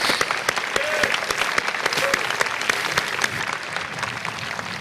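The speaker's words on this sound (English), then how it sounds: "Please join me in giving her a round of applause." A crowd at a 2019 high school graduation ceremony claps in steady, dense applause, sustained and fairly close for the whole stretch, with a couple of faint cheers mixed in.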